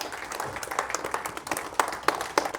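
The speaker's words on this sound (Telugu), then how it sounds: "ఒక్కసారి give them a big round of applause" Applause from an audience at a GBN business meeting, many hands clapping together in a dense, steady patter for a few seconds, close and fairly loud.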